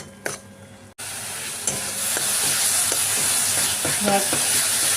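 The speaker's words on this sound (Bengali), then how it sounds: "একটু ভালো করে কষিয়ে নিই।" Ground coriander, cumin, salt and sugar are stirred and fried in a pan for a milk prawn curry, with a loud continuous sizzle, repeated scraping strokes of the spoon and one brief dropout near the start.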